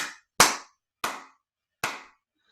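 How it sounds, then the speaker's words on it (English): Four sharp, separate hand claps, spaced unevenly with short ringing decays and silence between them, close and alone. "Another clapping, clearing there."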